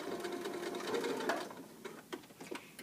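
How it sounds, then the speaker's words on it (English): A sewing machine back stitches an elastic waistband into a pair of shorts, its needle whirring steadily and close up for over a second before breaking into short, separate stitching bursts. "when I get to the end, I'm going to back stitch again"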